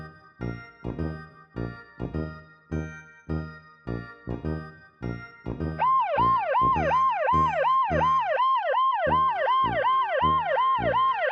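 Ambulance siren blaring loud and close, its rising-and-falling wail cycling steadily through the second half after a run of rhythmic, evenly spaced thumping beats.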